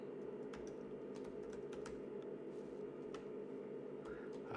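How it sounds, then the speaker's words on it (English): Typing on a computer keyboard, a string of quiet, irregular key clicks over a steady low electrical hum, close by, with no talking. "So now I'm going to type in some text"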